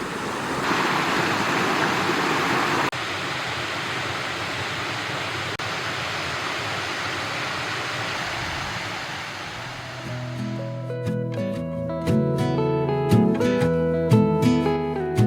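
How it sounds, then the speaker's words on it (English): Ripley Falls, a 90-foot waterfall in New Hampshire, drops straight down over rocks, a loud, steady roar of falling water heard alone that gives way to music near the end. "The water drops straight down over rocks and the mist hits you before you even reach the base."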